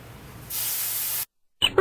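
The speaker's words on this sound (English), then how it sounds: "A little sizzle there" Chicken thighs hit a hot pan with a sudden loud, bright sizzle that holds for under a second before cutting out, followed by a brief clatter.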